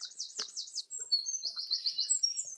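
Bright, rapid birdsong with trilling, warbling phrases repeating continuously, fairly close and clear against a quiet background.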